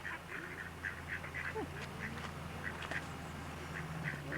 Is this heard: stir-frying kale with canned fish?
no